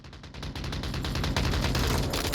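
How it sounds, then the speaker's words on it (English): Gunfire in the Onward VR video game during a competitive match: a rapid, steady string of loud shots fills the whole moment, with no talking over it. "There's the shots from Grim."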